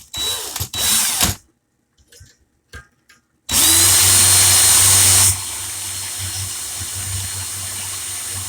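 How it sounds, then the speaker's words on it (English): A power drill spinning forward with 34 gauge wire in its chuck gives a few brief whirring bursts with handling knocks, then a loud sustained whine for about two seconds that settles into a quieter steady hum. "My drill's in the forward motion,"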